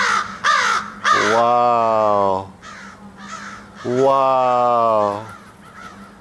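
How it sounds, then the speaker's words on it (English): A big gathering of crows flies overhead, giving loud repeated caws in two long bursts with shorter calls in between, while a person exclaims between the calls. "Look, all the crows in the sky."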